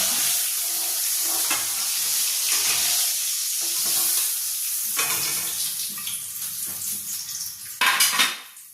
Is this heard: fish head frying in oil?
yes